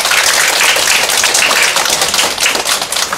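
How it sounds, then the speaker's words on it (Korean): Audience applause at a lecture by an author, dense steady clapping from a seated crowd filling the room, loud and continuous throughout with no talking. "박수 부탁드립니다"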